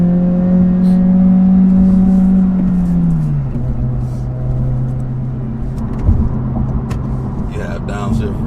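A Honda Civic Si's engine drones and revs inside the cabin on a test drive, a steady hum that drops in pitch as revs fall, with people talking over it.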